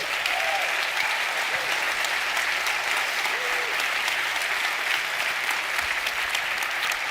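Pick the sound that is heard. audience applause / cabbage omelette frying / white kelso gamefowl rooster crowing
audience applause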